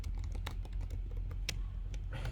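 Keys clack on a computer keyboard in a quick irregular burst of close, crisp taps over a low steady hum, with no talking.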